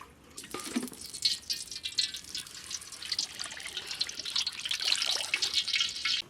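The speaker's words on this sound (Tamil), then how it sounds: "முதல்ல எண்ணெய் ஊற்றிக்கலாம்" Cooking oil poured into a pan for frying onions for a Kerala Thalassery chicken dum biryani, a close, steady liquid trickle and splash running continuously with a few drip-like accents, no talking.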